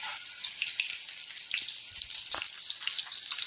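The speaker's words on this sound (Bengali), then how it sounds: "চ্যাপটা চ্যাপটা করে বড়া ছেড়ে এখন লাল লাল করে ভেজে দেখাচ্ছি।" Flattened prawn-head fritters fry in hot oil with a bright, continuous hiss and scattered crackling pops, close and steady with no voices.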